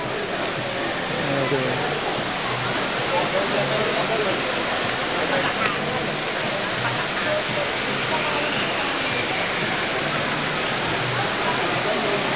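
Water pours steadily from an indoor decorative waterfall in the Dubai Mall, a loud continuous rushing hiss with the faint murmur of people in a large hall underneath.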